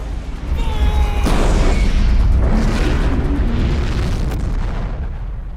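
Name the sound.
rocket launcher explosions hitting a building in a VFX shot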